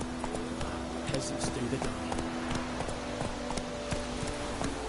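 Horse hooves clip-clopping in a rapid, steady gallop in the video game The Witcher 3, a continuous rhythmic beat heard alongside in-game voices and background sound.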